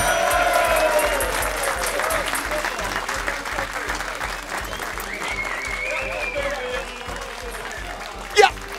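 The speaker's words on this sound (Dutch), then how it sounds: "Applaus voor de jongste winnaar ooit" A studio audience at a Limburg carnival (vastelaovend) television show applauds the youngest winner ever: sustained, dense clapping that holds steady throughout, broken near the end by one brief, sharp rising whistle-like burst.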